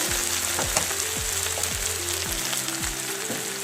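Spicy potatoes fry steadily in a pan after five minutes of cooking, a dense continuous sizzle with occasional stirring scrapes, close and alone with no talk.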